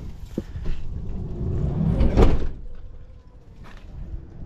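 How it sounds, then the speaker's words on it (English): Heavy manual sliding door on a camper van rolling along its track, building to a loud solid slam near the middle, followed by a fainter clunk of the latch, with no talking. "this is a manual door, it's not electric, so"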